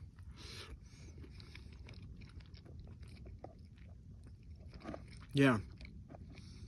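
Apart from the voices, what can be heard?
eating and chewing a camp-cooked meal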